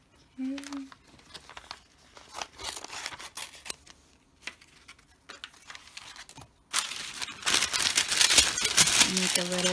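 Parchment paper crinkles and crackles as it is folded into a taco shape for machine appliqué fabric prep, in bursts of rustling with brief pauses, louder toward the end, with a voice briefly heard.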